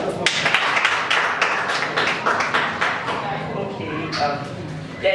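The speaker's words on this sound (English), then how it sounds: "A round of applause." An audience applauds after a poetry reading with dense, continuous clapping that then thins out as a voice begins to speak over it.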